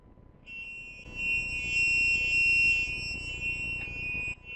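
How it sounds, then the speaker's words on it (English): A shrill active buzzer wired directly to an Arduino Uno sounds one steady, piercing tone for several seconds, close and loud, then cuts off abruptly. "a active buzzer hooked directly to the Arduino Uno"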